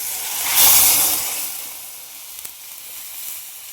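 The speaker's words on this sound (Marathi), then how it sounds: "आता आपण ह्यात पाणी वततो" Loud hissing sizzle as water is poured into a hot pan of sautéed ingredients for upma, rising sharply then settling into a softer steady bubbling hiss.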